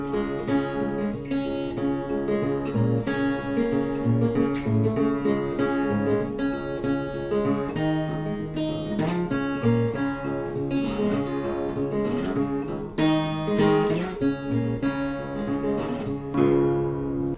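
Fingerpicked acoustic guitar in open C tuning playing the A part of a blues piece, a steady alternating bass under ringing melody notes, close and clear with no talking.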